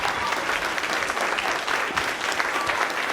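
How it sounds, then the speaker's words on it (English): Steady applause from an audience at a third grade instrumental school concert, a continuous mid-level patter of many hands clapping without pause. "keep the applause going for our third grade teachers"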